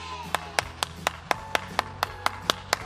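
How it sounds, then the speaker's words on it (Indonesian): A single person claps hands in a slow, even rhythm, about eleven sharp claps spaced regularly, close and distinct over a quiet room at an online children's Sunday church program. "Tepuk tangan yang meriah."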